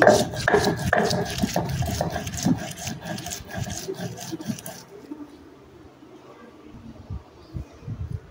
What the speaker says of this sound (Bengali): তো এখন আদা রসুনগুলো বেটে নিচ্ছি।